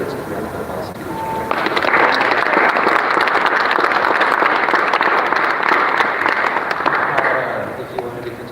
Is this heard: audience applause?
yes